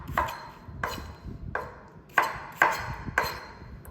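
A knife chops through potatoes on a cutting board for mashed potatoes, six sharp, evenly spaced cuts close by, each a crisp knock with a brief ring, with quiet gaps between them.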